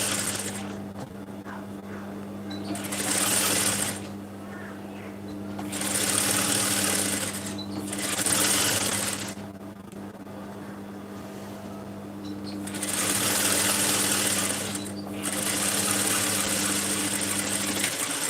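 A sewing machine stitches a narrow rolled hem in loud bursts of rapid needle chatter, several runs separated by short pauses, over a steady low motor hum.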